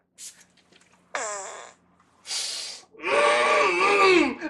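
Crude fart-like sound effects in a comedy parody commercial for a fake product: a short burst, a longer buzzy blat, a hissy puff, then a long loud wavering squelch, with no talk over them.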